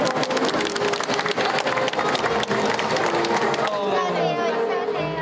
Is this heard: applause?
yes